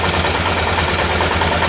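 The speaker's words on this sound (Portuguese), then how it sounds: "Tá aí, pessoal, a moto já funcionando aí, ó." A motorcycle engine idles steadily and loudly up close, a continuous low rumble with no speech.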